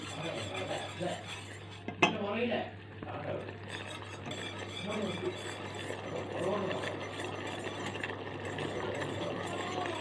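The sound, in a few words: stirring food after pouring in ghee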